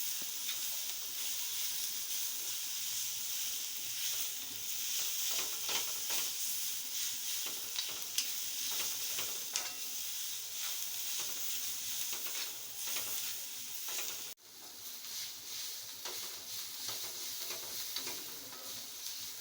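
Onions roasting in a pan for mutton curry hiss in a soft, continuous sizzle, with faint ticking stirs scattered through it and no one speaking.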